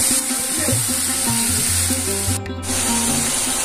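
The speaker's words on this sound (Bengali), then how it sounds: "পেস্ট করা মশলা তেলে দিয়ে দিচ্ছি। মশলাগুলোকে ভালো করে তেলে কষতে থাকব।" Ground spice paste fries in hot oil, a steady loud sizzle and spatter close by that runs unbroken for a few seconds with no voice.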